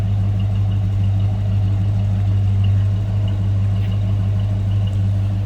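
A 1973 Mercury Cougar XR7 convertible with a 351 V8 idles smoothly and steadily at close range, a constant low rumble with no revving and no voices.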